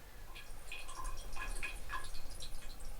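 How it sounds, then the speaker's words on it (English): Warm water running from a tap while lens elements from a Soviet TAIR 3 Photo Sniper 300mm f4.5 lens are rinsed, a steady splashing trickle with scattered close drips and no talking. "I use running warm water and washing up liquid to clean dirty lens elements"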